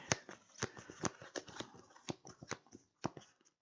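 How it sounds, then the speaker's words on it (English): Arkham Horror 3rd edition board game cards are shuffled by hand in quick, uneven bursts of crisp riffling and flicking, close and fairly quiet, with no talking. "I try to shuffle without looking."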